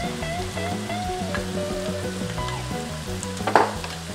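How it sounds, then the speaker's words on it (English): A spoon stirs flour into melted butter in a pan, making a steady close sizzle with scraping strokes and a brief louder clatter near the end, while soft background music plays under it. "We're going to stir this around continuously for about 2 minutes."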